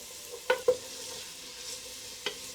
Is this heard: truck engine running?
no